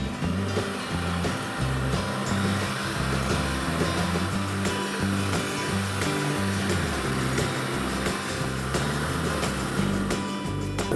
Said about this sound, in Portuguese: eu vou bater os ovos com o açúcar na batedeira por mais ou menos uns 6 minutos